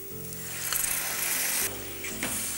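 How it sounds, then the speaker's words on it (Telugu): Gravy curry being stir fried over a full flame sizzles loudly and steadily, with brief stirring scrapes and a louder sizzling surge midway before it settles. "మళ్ళీ స్టర్ ఫ్రై చేస్తున్నాం కాబట్టి ఫుల్ ఫ్లేమ్లో పెడుతున్నాను."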